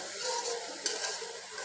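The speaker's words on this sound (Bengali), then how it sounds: "আমি এই মশলাটা খুব ভালোভাবে কষিয়ে নেব" Spice paste for mustard hilsa fish is stir-fried in a pan, with a close, steady sizzle and the scrape of a spoon stirring, including one sharper knock.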